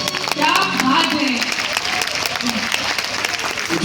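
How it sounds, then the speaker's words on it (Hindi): An audience applauds at a Hindi kavi sammelan poetry recital in Shravasti, a dense sustained patter of many hands clapping from a crowd, with voices talking over the applause. "कुछ लोग हाथ उठा के तालियां बजा रहे हैं"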